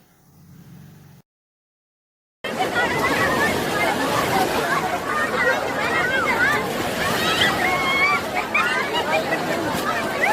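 Sea waves wash in at a crowded beach where people bathe, the steady surf roaring close and loud beneath a thick babble of many voices after a brief quiet gap at the start.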